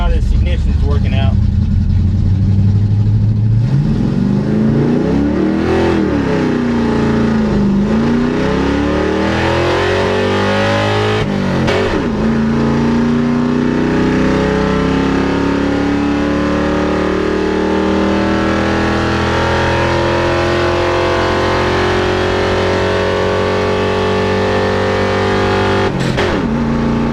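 A car engine with a newly installed replacement for an HEI distributor ignition, run without nitrous, revs and accelerates hard through several rising and falling gear pulls, loud and sustained, with people talking over it.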